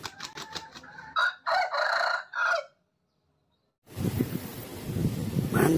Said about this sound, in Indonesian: Nah, kalau yang ini ayam.